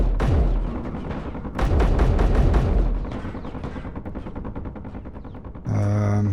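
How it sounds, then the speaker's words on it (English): Loud bursts of gunfire crack in Space Engineers, coming in rapid automatic volleys with ricocheting hits between them, then a sharp tonal electronic blast at the end, with no talking. "Okay, we've got ricochets. I'm liking that. Right, so stuff like that that's shooting."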